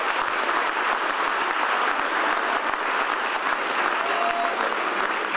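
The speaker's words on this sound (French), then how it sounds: "et vous pouvez vous applaudir" Dense, sustained applause from an audience of more than a thousand at a breakfast gathering held at the Libramont agricultural fair, steady and full throughout with no talking.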